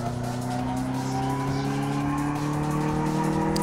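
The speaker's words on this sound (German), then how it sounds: "Wir drehen den Motor hoch." A car engine revs on a dyno test in Car Mechanic Simulator 2014, a loud, steady droning tone that climbs slowly in pitch as the revs build, with no speech.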